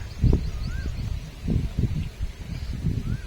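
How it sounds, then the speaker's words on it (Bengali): Gusty wind blows outdoors at a fishing competition in the Sundarbans on a rainy day. Low, rumbling buffets come in uneven surges, with faint bird chirps behind them. "দেখুন, ঝোড়ো হাওয়া বইছে।"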